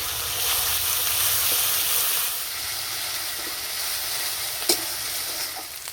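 Paste of onion, garlic and ginger with panch phoron spices sizzles loudly and steadily in hot oil as a fish curry with ash gourd gets underway, with a brief stirring clatter near the end and no talk.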